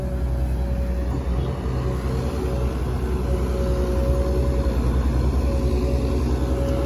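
An XCMG excavator with a big bucket runs in a steady, loud, continuous engine rumble with a constant low drone and no breaks.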